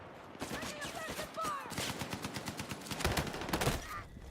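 Rapid bursts of automatic gunfire ring out in a shooter video game, Andromeda, with repeated fusillades of shots and some rattling, moderately loud throughout.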